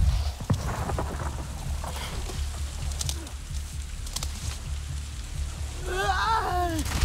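Steady rain falling in Avatar Frontiers of Pandora, a continuous soft hiss with occasional low rumbles, alongside game sounds and a brief chirping creature near the end.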